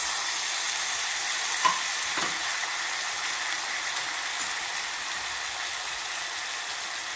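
Onions, ridge gourd pieces, coriander and fenugreek leaves frying in a pan: a steady, even sizzle and hiss throughout, with a couple of faint stirring clicks and no talking.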